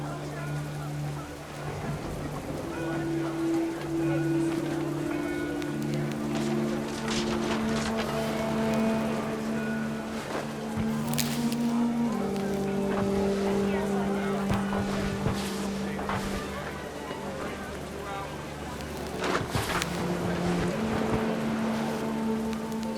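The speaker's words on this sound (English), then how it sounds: "rain came down in buckets then" Steady heavy rain pours down continuously in the video game What Remains of Edith Finch, with a low droning hum and tonal notes playing over it throughout.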